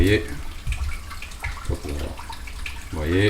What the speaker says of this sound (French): là je suis en train de remplir avec de l'eau osmosée